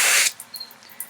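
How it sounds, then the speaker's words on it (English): A short, loud hiss of air rushing out of a drained Pepsi soda can, lasting a fraction of a second and followed by a few faint crackles and spits. "like the air rushing out right at the end."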